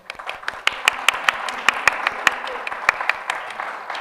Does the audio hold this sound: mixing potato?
no